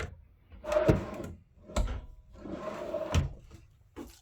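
Full-extension drawers in a 2023 Keystone Cougar 22MLS travel trailer kitchen sliding open and shut, a few rolling glides each ending in a soft wooden thump, close and fairly quiet with no talking.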